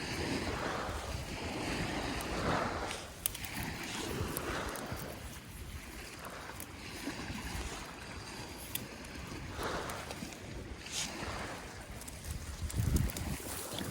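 Surf rolling onto a seashore where wild sea spinach grows, with a steady wash of breaking waves and gusts of wind buffeting the microphone throughout, no voices heard.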